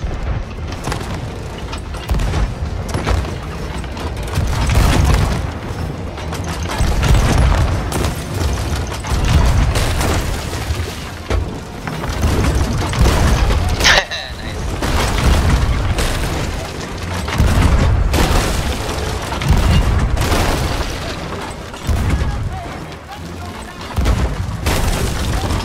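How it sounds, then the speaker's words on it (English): Ship cannons fire in a sailing video game, loud repeated booms and blasts rolling through the whole stretch with dense battle noise and occasional speech. "I'll join you on cannons then."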